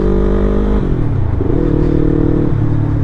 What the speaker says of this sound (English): Letting the engine warm up before I try to go to higher revs.